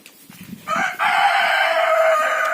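A rooster crows loudly and close by in one long sustained call, after a few faint clucks and shuffles, in a village farmyard in Ukraine.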